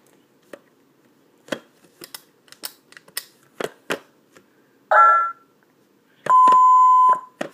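An electronic toy smashing game gives sharp clicks and taps, then two sustained electronic beep tones, the second longer and steadier, heard up close in a quiet room.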